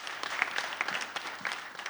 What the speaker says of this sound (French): je vais demander beaucoup d'applaudissements